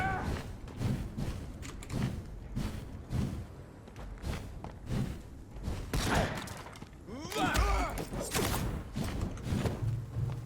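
Repeated sharp gunshots and thuds in Vampyr in an irregular rhythm with bursts of louder impacts, close by, mixed with game noise and some voice.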